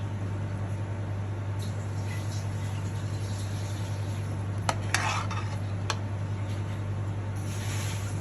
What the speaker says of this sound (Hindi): अब हम इसको डिश आउट कर रहे हैं।